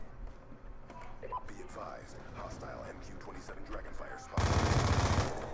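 Black Ops 2 multiplayer gunfire on PC breaks out in a loud burst of rapid shots near the end, after a stretch of quieter game sounds with a voice talking over them.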